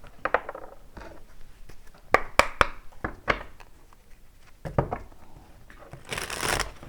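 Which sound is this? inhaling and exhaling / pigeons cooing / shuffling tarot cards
shuffling tarot cards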